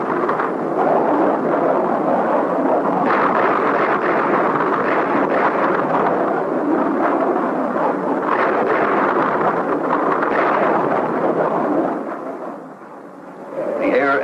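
Aerial bombs exploding at Khe Sanh, a continuous heavy rumbling roar of blasts and concussions, loud and sustained before briefly dipping near the end.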